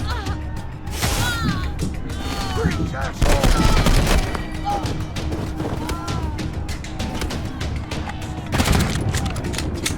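Gunfire rings out in the video game Wasteland 3 as a puncturing shot lands, several sharp cracks and bursts scattered across a busy battle mix with music and effects, with louder blasts near the start and end.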